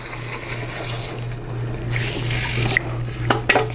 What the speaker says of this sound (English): One last rinse on the ends.